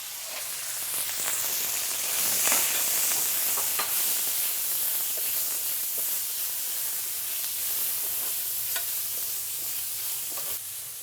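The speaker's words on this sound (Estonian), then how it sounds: "panengi oma need seakaela ribalad siia sisse. Pann on väga äkiline." Pork neck strips sizzle hard in a very hot pan, a bright, steady hiss with crackling spits and occasional louder pops throughout, close and continuous with no voices.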